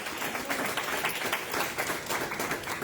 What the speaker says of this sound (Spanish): Denle un aplauso grande al Señor